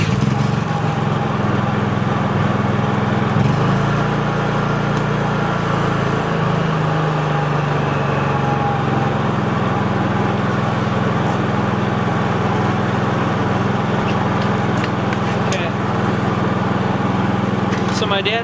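A Honda generator engine runs steadily and loudly at close range, a constant droning hum with little change in pitch.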